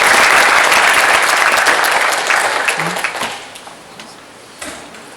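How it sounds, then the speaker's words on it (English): A conference audience at a Dalhousie University engineering graduate event gives a loud round of applause that holds strong, then gradually thins and fades to a few scattered claps near the end. "Can we have a round of applause?"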